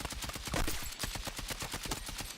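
A continuous mag dump in the video game Battlefield 6, a rapid, evenly spaced stream of loud automatic gunshots that runs unbroken from start to finish with no pause.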